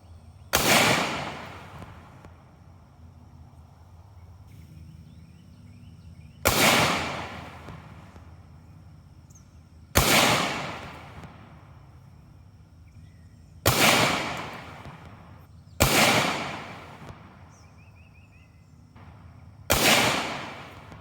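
A Kel-Tec PR57 pistol fires FN 30-grain rounds: six loud, sharp shots spaced a few seconds apart, each trailing off in an outdoor echo, with no talking.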